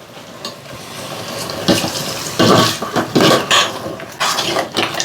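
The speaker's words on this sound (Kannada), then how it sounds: "ಅದಕ್ಕೆ ಇವಾಗ ಬಿಸಿನೀರು ಕಾಯಿಸಿಟ್ಕೊಂಡಿರೋದನ್ನ ಹಾಕ್ತಾಯಿದ್ದೀನಿ." Hot water poured into a pot of cooked lentils while making chicken gravy, heard as bursts of splashing, gurgling liquid that swell and fade over several seconds, close by with no talking.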